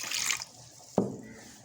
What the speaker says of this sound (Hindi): अब हमने इस तरह से जग में पहले पानी डालना है।